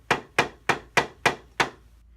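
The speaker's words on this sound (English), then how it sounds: "create a pilot hole by lightly hammering the nail into the spots you have just marked" Six light, evenly spaced hammer taps drive a nail shallowly into furniture to start a pilot hole, each a crisp, close knock that quickly fades, with no talking.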